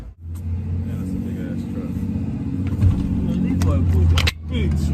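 A big truck's engine idles with a deep, steady low rumble close by, with faint jingling and a brief surge near the end, heavy bass thumping underneath throughout.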